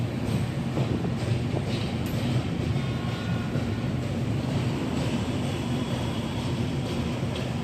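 A train runs along a railway track in Varanasi, a steady rumbling roar of wheels and carriages that holds at an even, moderate level for several seconds with no voices over it.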